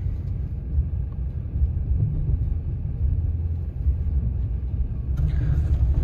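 A 7.3 Power Stroke diesel truck on a heavy tow rolls across a scale, giving a steady low rumble from inside the cab, with a brief brighter noise near the end.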